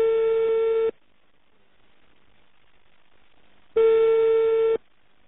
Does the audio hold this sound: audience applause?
no